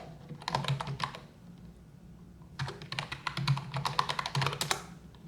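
Two bursts of rapid keyboard typing, clattering keys close by, separated by a brief quiet pause.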